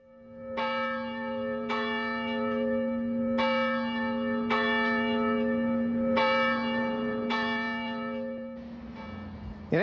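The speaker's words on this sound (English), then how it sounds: "church bells rang at 7:50 and again at 8:15 in honor of all those who died on 9/11" Church bells in Anamosa toll in a slow, steady series of resonant strikes, each ringing out and overlapping the next, marking a 9/11 memorial observance.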